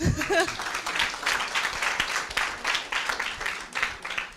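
Applause from the audience at an agricultural career fair opening, with brisk, dense clapping that starts strong and continues evenly for several seconds.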